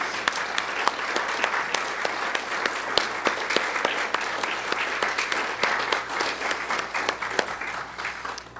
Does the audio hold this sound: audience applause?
yes